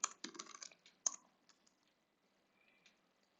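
Keys click on a computer keyboard in a quiet room, a quick cluster of taps followed by a couple of sparse, fainter keystrokes and then near silence.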